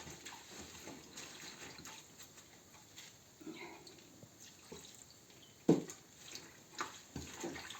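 Water being poured out of a pot and fresh water sloshed in to rinse greens during home cooking in a kitchen, with soft splashes and drips and one sharper splash midway, fairly quiet throughout.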